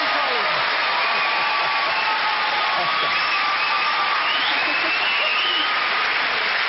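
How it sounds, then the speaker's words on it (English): A television studio audience claps steadily for a guest on a prank show, a thick continuous wash of applause with faint cheering and voices mixed in throughout. "Give her a round of applause,"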